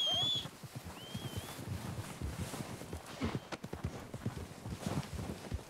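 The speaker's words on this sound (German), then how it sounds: "wir nehmen die Pferde und reiten noch weiter hoch" Horses ridden uphill in Red Dead Redemption 2 clip-clop in a steady, quick rhythm of close hoofbeats, moderately quiet, with a brief whinny at the start and light ambient noise.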